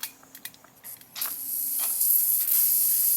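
Gasoline sprays from a faulty fuel injector taken off a 1994-1997 Honda Accord EX under pressure, heard as a few brief ticks followed by a sustained loud hiss close up.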